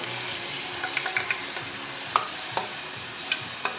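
Homemade potato chips fry in hot oil with a steady close sizzle and bubbling, broken by a few light clicks and taps from a utensil, with no voices.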